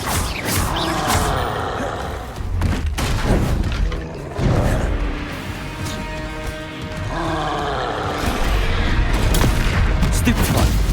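Booming spell explosions and crackling blasts in Hogwarts Legacy combat, several loud bursts layered over continuous battle noise and a shouting voice.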